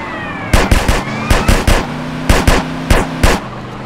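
Gunfire from a drive-by in GTA San Andreas mobile, with an Opel Astra H mod car: loud, close bursts of rapid shots in several quick clusters, over a low engine hum, with no talking.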